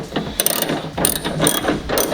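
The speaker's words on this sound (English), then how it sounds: "Why'd you grab the shitty ratchet?" A worn ratchet clicks loudly and close in a few quick bursts while turning 10mm bolts on the trunk of a Mazda 3.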